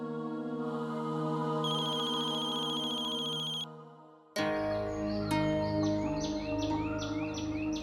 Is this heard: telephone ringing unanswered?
yes